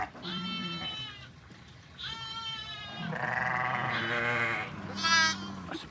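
A disabled sheep from a flock in the Sinjar mountains of Iraq gives several loud, close, wavering bleats in short bursts, with another bleat joining near the end and a faint voice in the background.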